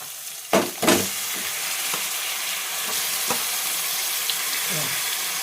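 Pieces of chicken drop into a hot pan for curry, giving two loud thumping splashes before a steady sizzling hiss settles in, with occasional scrapes and clinks as the pieces are stirred.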